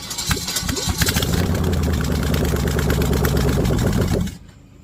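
A budget-built Chevy small-block 350 Vortec V8 with an air-gap intake fires up and runs steadily at a loud, close idle with a rough throbbing beat, then cuts off abruptly near the end.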